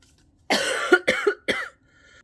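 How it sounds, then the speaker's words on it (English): Three sharp coughs from a tickled throat in quick succession, close and fairly loud, with brief pauses between them and quiet before and after. "I keep coughing as I'm talking."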